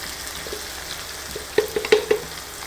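Eggplant sautéing in hot oil for a Tamil-style kathirikai tokku: a low, steady sizzle, then a few quick, sharp stirring clicks near the end.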